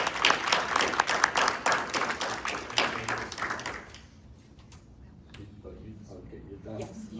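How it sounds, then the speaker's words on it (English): Applause from the audience at an association's annual meeting, a few seconds of dense clapping that fades out to near silence, followed by faint room sounds and brief indistinct talk. "she deserves a round of applause."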